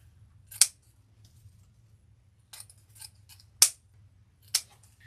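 Scissors snip through ribbon tails on a turquoise pumpkin grapevine wreath, several sharp, close cuts spaced a second or so apart over a low background hum.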